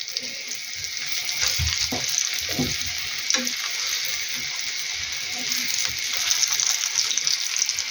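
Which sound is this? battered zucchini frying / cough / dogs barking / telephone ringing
battered zucchini frying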